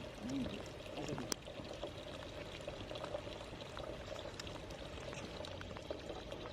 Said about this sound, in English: a natural spring from somewhere presumably higher up. And it's still flowing.